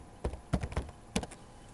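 Several separate key presses on a computer keyboard while entering a command in AutoCAD, in a quiet room: a short burst of taps, a pause, then one more tap, close and fairly soft.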